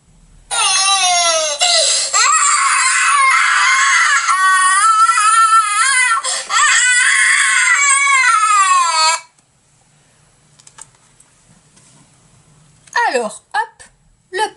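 A storyteller's voice imitates a little crocodile crying and screaming: loud, shrill, wavering wails held almost without pause for about nine seconds, then quiet, followed by a few short higher vocal bursts.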